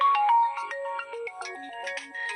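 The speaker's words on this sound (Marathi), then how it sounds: "एक मिनिट गाईज, फोन आलेला आहे." A mobile phone plays a bright melodic ringtone, a quick run of clear electronic notes, close and fairly loud, with no talking over it.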